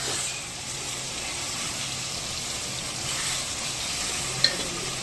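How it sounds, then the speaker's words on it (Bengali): Ingredients hitting hot oil in a home kitchen give a steady, broad sizzle and hiss that holds evenly throughout, with a faint low hum beneath and one brief sharp click near the end. "সেজন্য সব কিছু তেলে দিতে হবে"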